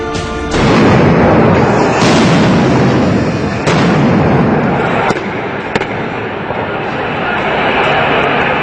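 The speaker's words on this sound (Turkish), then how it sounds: "Sokaklar alev alev, ard arda patlama sesleri duyuluyor." Loud, booming explosions burst out one after another over a constant roar of street noise, with sharp cracks scattered throughout, during riots in the streets of Athens.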